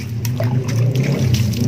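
Water trickles and splashes steadily while a small Caladium (bon si) plant is rinsed clean by hand, a close, continuous running sound with a low hum underneath.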